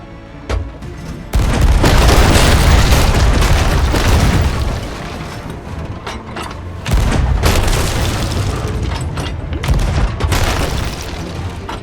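Ship cannons of a pirate ship in the video game Sea of Thieves fire in a run of loud, heavy booms, with rumbling blasts filling most of the stretch and a short lull in the middle.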